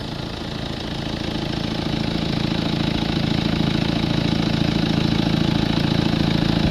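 A Mercedes C250 CDI diesel engine with a blocked DPF idles steadily and close by, a constant rumbling clatter that holds even throughout.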